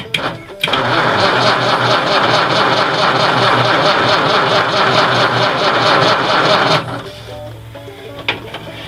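A 1955 Ford engine cranks hard and steadily for about six seconds when bumped with the starter solenoid, a loud rhythmic churning that stops abruptly and leaves quieter background noise.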